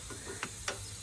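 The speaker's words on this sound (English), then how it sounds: "I got my torque wrench here. I'm just tightening these to 35" A torque wrench tightening brake caliper bolts on a Lexus CT200h gives two faint, quick mechanical clicks, close together, over a quiet background.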